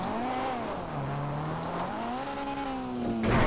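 Dinka Blista Compact, a front-wheel-drive compact car in GTA, with its engine droning and rising and falling in pitch as it accelerates and shifts, loud and close, ending in a brief burst of tire noise.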